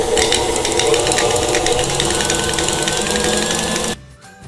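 An electric hand mixer beats potatoes for mashed potato at maximum speed, a loud steady close motor whine running unbroken before cutting off abruptly near the end.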